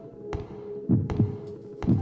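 A character's heartbeat thumps in a Pennywise horror game on iOS, a steady series of deep, close double beats with faint clicks over a low hum.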